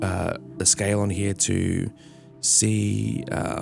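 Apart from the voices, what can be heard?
None of the usual background noises is heard.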